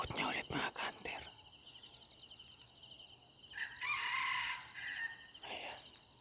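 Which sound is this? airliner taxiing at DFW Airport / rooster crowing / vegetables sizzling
rooster crowing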